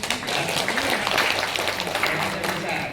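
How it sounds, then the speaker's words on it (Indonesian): Audience applause for Samira, a large travel agency partner, at an Islamic umrah financing presentation; dense, steady clapping from a crowd runs throughout at moderate level, with some talk mixed in. "Tepuk tangan untuk Samira ya."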